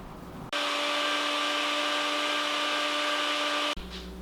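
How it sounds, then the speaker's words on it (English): Small electric spice grinder pulsing roasted dried pepper skins into powder: an abrupt, loud, steady motor whine that runs for about three seconds, stops, and gives way to a brief clatter. "So once you have the red skin in the little spice grinder, you'll just pulse it up."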